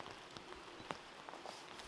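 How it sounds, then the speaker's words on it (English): Rain falls steadily at a wild camp, a faint, even patter of drops on surfaces with a few slightly sharper taps, no talking. "Hopefully this rain's going to ease up."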